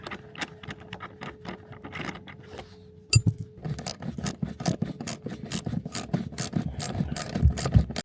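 A ratchet wrench works a 16mm bolt loose inside a Citroen XM interior, with quick regular clicking strokes, then a sharp clank and continued ratcheting and metallic rattling close by.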